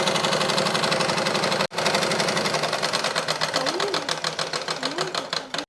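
Sewing machine stitching churidar pants, a fast rhythmic motor-driven chatter that runs continuously, briefly cuts out, then resumes, close and fairly loud, with a voice talking over it.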